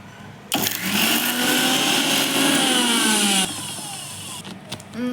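A kitchen mixer grinder runs loaded with henna leaves, a loud close motor whine with a rising, straining pitch for about three seconds, then drops to a quieter hum before stopping, with no talking.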